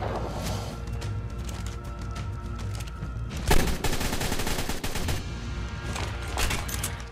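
Continuous rapid gunfire from a player shooting big raptors in the survival game Ark Survival Evolved, dense and loud throughout with a heavier burst near the middle.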